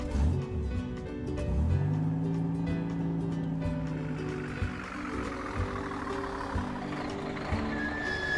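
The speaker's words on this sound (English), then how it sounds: "Start the engine." A cartoon car engine starts, a rising mechanical whine and revving tone that builds in pitch and carries on steadily, with sliding tonal effects throughout.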